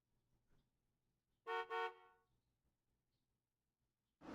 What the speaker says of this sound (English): Yes, Geo, just stay in the crosswalk when you hear a car horn